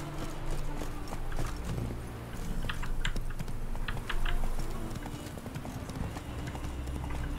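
Rhythmic clip-clop of horse hooves galloping in The Witcher 3: Wild Hunt, steady and continuous, with light clicking of keys mixed in.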